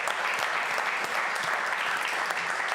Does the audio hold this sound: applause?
yes